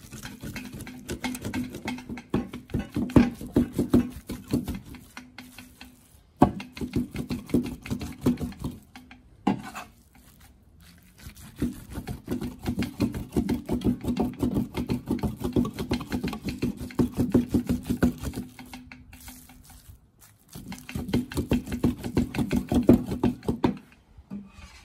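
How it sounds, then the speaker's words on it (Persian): A cleaver chops meat by hand for Iranian kebab, producing long runs of fast, rhythmic close thuds and knocks on a board, broken by a few short pauses before resuming. "شروع میکنم خرد کردن. داخل دستگاه نریزید، حتما ساتوریش بکنید."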